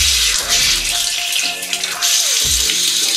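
Water runs steadily from an open sink spigot on a house well-pump system, a close, loud, continuous hissing splash with slight surges and gurgles in the flow.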